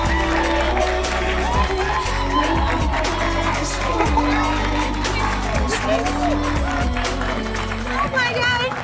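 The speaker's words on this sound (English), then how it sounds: "Clap loudly." A live crowd at a Christmas show claps, cheers and whoops for Arlan Hamilton as she comes on stage, loud and continuous, mixed with music and shouting voices throughout.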